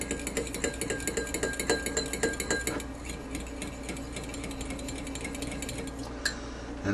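A spoon stirs a meatloaf mixture with Worcestershire sauce in a bowl, giving a steady run of rhythmic scraping knocks at first, then fading into a continuous soft mushing under a background hiss.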